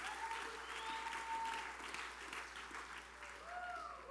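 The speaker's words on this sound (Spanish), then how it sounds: "Levántese fuerte aplauso al Padre, a Cristo y al Espíritu Santo." A church congregation at a congress fills the hall with sustained, even applause, steady throughout and moderately distant, with a faint voice lingering behind it.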